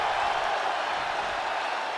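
Arena crowd roar from the WWE 2K24 wrestling game, a steady, dense wash of cheering and applause sustained at even loudness throughout.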